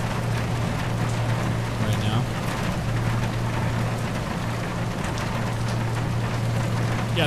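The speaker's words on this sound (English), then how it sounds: "Just rain, no storm." Steady rain patters on a ship's windshield in Seafarer: The Ship Sim, a constant close hiss over a low, even engine hum, with no thunder.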